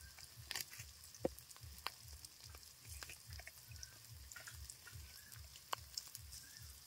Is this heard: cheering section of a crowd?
no